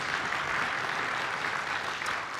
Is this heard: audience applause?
yes